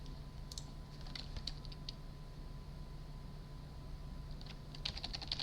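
Keys clatter on a computer keyboard in short scattered bursts of quick, light clicks over a steady electronic hum, quiet and close, with pauses between the flurries.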